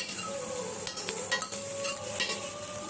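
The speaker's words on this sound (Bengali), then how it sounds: "এবার এটাও আমি ওই মাখনে নাড়াচাড়া করে নিচ্ছি।" Shredded boiled chicken being stirred in melted butter in a pan for chicken rice soup, with a steady soft sizzle and intermittent scraping and clinking of a utensil against the pan.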